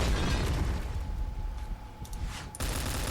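Loud, dense explosions and gunfire in the online shooter Point Blank rumble from the start, fading briefly with a thin tone before another sharp blast cuts back in.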